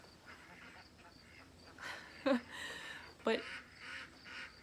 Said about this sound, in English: my ducks are being loud. They're yelling at me. They want to be fed.